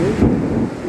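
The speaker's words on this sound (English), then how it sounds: "Rain in Murwillumbah. Thunder, lightning," A thunderstorm with heavy rain in Murwillumbah, Australia, brings a loud, close thunder rumble swelling briefly over a dense rain wash.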